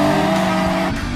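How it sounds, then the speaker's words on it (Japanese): Anime race cars, including a Toyota AE86, drive a mountain pass with a loud, sustained engine drone and a faint tire whine. The sound is close and continuous. "中里のやつ、アクセル緩めて86を待ってやがるぜ"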